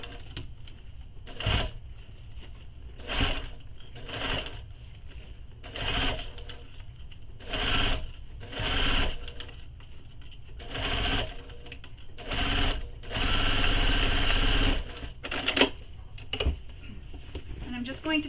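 A sewing machine stitches a handbag in repeated short runs, each burst of rapid mechanical whirring separated by pauses, with one longer run near the end and a voice faintly present underneath.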